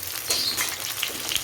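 Cauliflower and potato pieces frying in oil in a pan, a soft, close, continuous sizzle with faint crackles and small stirring scrapes, no talking.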